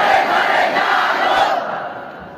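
A large crowd at an Islamic religious gathering shouts the takbir in unison, a loud sustained roar that fades over a couple of seconds.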